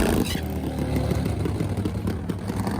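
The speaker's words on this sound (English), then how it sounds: "motorcycle sounds strong" A nitro-fuelled Harley Pro Fuel drag racing motorcycle at a Pro Outlaw 7.70 drag race runs its engine with a loud, steady low roar and harmonic drone throughout, with no talk over it.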